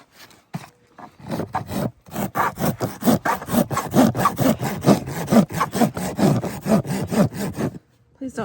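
Hoof rasp bevelling the overgrown hoof of a horse: a quick, steady run of around twenty rough, scraping strokes, close and fairly loud, with brief pauses at the start and end.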